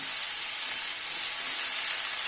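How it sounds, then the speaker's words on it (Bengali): Cauliflower florets fry in hot oil with salt and turmeric, giving an even, close, bright sizzling hiss that holds steady throughout. "নুন হলুদ দিয়ে কফিটাকে আগে একটু ভেজে নিচ্ছি"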